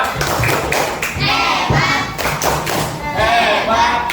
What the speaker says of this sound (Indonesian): Tepuk hebat dulu untuk kelompok 2.